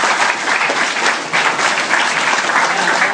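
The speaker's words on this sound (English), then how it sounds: "Give applause." An audience applauds at a public lecture, a loud, steady, continuous round of clapping filling the full few seconds without interruption.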